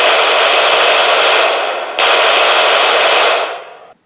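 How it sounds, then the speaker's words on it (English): A 1928 Thompson submachine gun fires in two loud, dense automatic bursts of about two seconds each, separated by a brief break. The second burst trails off at the end, and nobody speaks. "let's first actually take a listen to the 1920s Tommy gun and"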